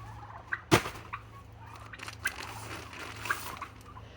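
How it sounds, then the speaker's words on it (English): Several turkeys gobble in short, scattered bursts at a moderate distance, one call louder and closer than the rest, over a quiet outdoor background. "So funny having all those turkeys out there."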